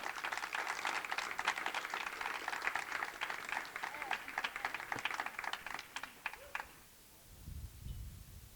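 An audience at a ceremony claps for several seconds, a dense patter of many hands that thins out and stops, followed by a brief low rumble near the end.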